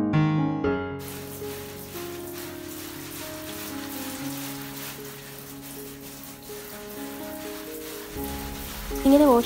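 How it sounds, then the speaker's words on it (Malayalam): Water showers down over indoor plants being washed, a continuous, close patter and splash like rain on leaves, with faint tonal background sounds underneath. "അപ്പം ചെടികളൊക്കെ ഒന്ന് വാഷ് ചെയ്തിട്ടാണ്"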